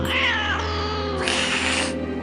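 A cat yowls loudly and up close while attacking, a drawn-out wavering caterwaul that rises into a harsher, higher screech partway through, with no talking.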